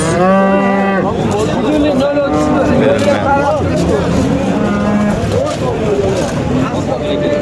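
Cattle at a livestock market moo loudly and repeatedly, long low calls overlapping one another amid a busy crowd murmur and background bustle.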